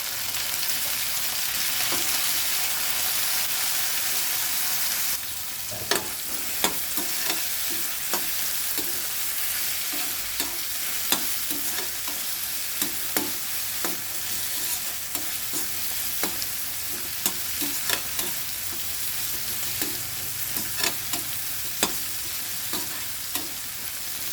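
Mint and coriander leaves fry in a pan with a steady, continuous sizzle, broken by frequent sharp scrapes and taps of a spoon stirring, close and fairly loud.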